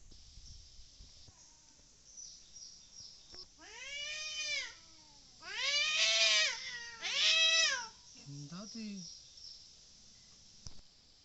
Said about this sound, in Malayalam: ഇപ്പോൾ പൂച്ച ദേഷ്യത്തിൽ തന്നെയാണ്